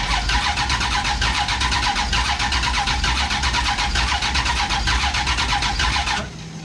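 Big block V8 in a Plymouth Duster cranking and catching on its very first start-up, a loud, steady churning roar with sharp pulses that drops off abruptly near the end.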